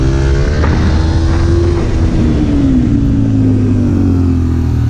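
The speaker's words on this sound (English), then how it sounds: "look how tight I was able to turn the motorcycle" A motorcycle engine drones loudly and close throughout while riding a track, its pitch slowly rising and then easing down through a turn, with no pauses.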